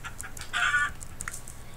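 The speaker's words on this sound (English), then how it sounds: "There's tons of chickens over here" Minecraft chickens cluck in short, scattered bursts, with one louder squawk in the middle, over a faint low background hum.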